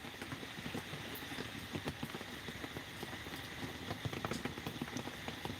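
Soft rain pattering on a surface in Surat, Gujarat, with irregular drops tapping and clicking against a quiet, steady background.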